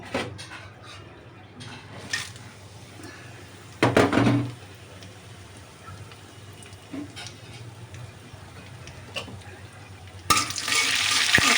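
Dry spices fry in mustard oil in a wok, a faint low sizzle broken by a few louder stirring scrapes and a clattering burst near the start of the last second, close with no talk.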